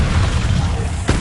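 The Confringo blasting spell detonates in the Hogwarts Legacy video game, a loud, dense booming roar that fills the moment and ends with a sharper burst.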